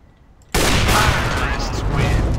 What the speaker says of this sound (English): That was a nice flick shot on my end.